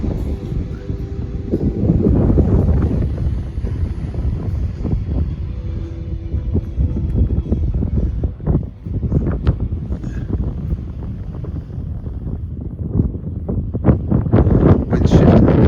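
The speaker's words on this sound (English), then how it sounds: "Wind shifting a bit too." Strong wind on the North Cornwall coast buffets the microphone with a loud, continuous low roar and rumbling gusts that swell and ease throughout.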